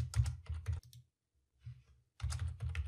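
A blog name is typed on a computer keyboard in short bursts of close, crisp key clicks. A pause falls between the bursts, and a few quieter taps follow before a final flurry.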